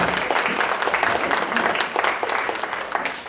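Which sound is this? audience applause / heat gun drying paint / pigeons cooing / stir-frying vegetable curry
audience applause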